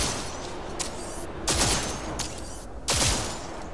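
Tech pistol shots from the video game Cyberpunk 2077, fired in a couple of loud, sharp bursts roughly 1.5 seconds apart, each with a short echoing tail over a steady background hum.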